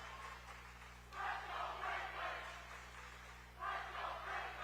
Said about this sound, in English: the crowd might be able to help a little bit on this one